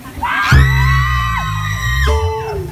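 A crowd screams and whoops loudly and continuously at a live Thai singing show, voices blending into a sustained roar with ringing tones underneath.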